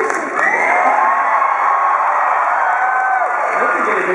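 Convention audience at a Legend of Korra panel cheering and shouting together as a staged crowd, a loud, sustained roar of many voices with whoops that swells, holds steady and then eases near the end.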